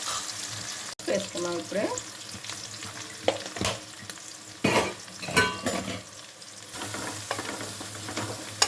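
Dry prawns sizzle and crackle in hot oil, with steady frying noise throughout and occasional stirring clatter of a utensil against the pan, while a voice speaks briefly over it.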